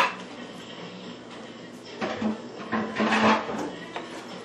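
Green chilies being stirred into ground meat in a pan, with scraping and clinking of a utensil against the cookware in uneven bursts that grow busier midway, close and moderately loud.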